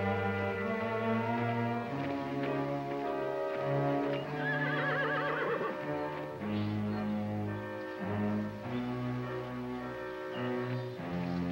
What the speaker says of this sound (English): We get the horses